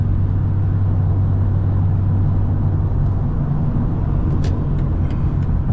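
A 2021 BMW M340i driving on the road, its exhaust and engine producing a loud, steady low droning hum from inside the cabin, with a few faint clicks near the end.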